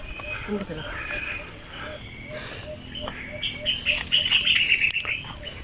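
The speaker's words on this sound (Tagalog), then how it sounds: "Huni ng ibon. Napakatahimik." Birds chirp and call in short bursts over a steady chorus of insects, growing busier toward the end, in a quiet mountain setting on Mt. Balakbak with no talking.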